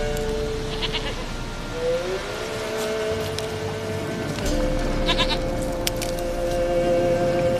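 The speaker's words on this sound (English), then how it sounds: "Here, goat." A goat bleats in the video game The Witcher 3: Wild Hunt, drawn-out wavering calls over a steady ambient game soundscape, with no voices.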